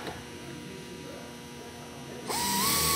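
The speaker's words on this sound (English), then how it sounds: "We're going to center punch, and then we are going to pilot drill." Pilot drilling sheet metal with a number 30 bit, about 1/8 inch, for an A&P aviation sheet metal project: a drill whine starts abruptly near the end, loud and close, over a steady background hum.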